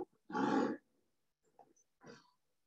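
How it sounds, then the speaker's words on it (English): Bengal tiger snarling: one loud, close, rough growl-snarl burst, then a quiet pause and two faint shorter grunting follow-ups, with no talk. "The snarl is basically a tiger saying, I'm not happy to see you."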